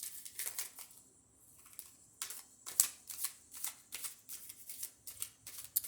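Oracle cards shuffled by hand, a quiet series of rapid papery riffles and flicks in quick bursts with brief pauses between.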